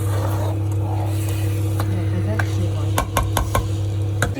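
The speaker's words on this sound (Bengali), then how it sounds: "মাংসটা এবার হাই হিটে কষাতে হবে" Marinated meat sautéed over high heat in a home kitchen, a loud steady frying roar over a constant low hum, with several sharp clanks of the spatula against the pot near the end.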